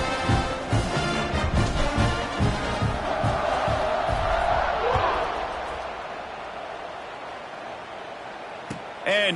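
A football stadium crowd at an Oregon game roaring and cheering loudly during a kickoff, thumping and shouting early, then fading to a steady murmur under commentary.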